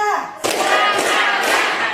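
A class of students doing a short rhythmic clapping chant, a sudden burst of group clapping mixed with voices, close and loud over a brief span.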